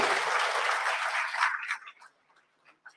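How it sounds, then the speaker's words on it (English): Audience applause for a school at a science event at IICB, CSIR, with the Governor of West Bengal attending; dense clapping from a large hall that fades out after about two seconds, leaving a few stray claps. "big round of applause to the school"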